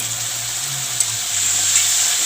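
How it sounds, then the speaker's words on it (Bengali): Spice masala frying in a pan for a meat dish, a steady close hiss and sizzle with a low hum running underneath and no voices. "মশলাটা ভালো করে কষাতে থাকবো আর একটু ভালো করে ভাজতে হবে"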